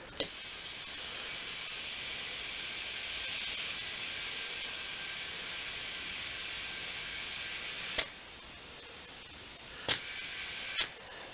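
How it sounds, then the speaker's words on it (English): Compressed air hisses steadily from a compressor into a motorcycle tyre during a tyre change on a 1998 BMW, a long even rush close by, broken near the end by a few short sharp bursts. "Now the compressor's pumped up and we're going to fill the tyre with air and pop the bead."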